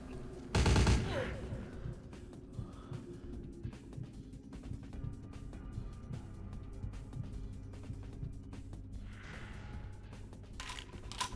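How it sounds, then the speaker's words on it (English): Gunfire in the video game Vampire The Masquerade Bloodlines: a loud burst of shots early on, then quieter scattered pops and clatter under background game noise. "Hey, somebody's shooting at me."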